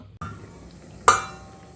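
A metal lid set onto a cooking pot of banana stem boiling with rock salt, a single bright close clink after a soft initial contact, alone with no speech.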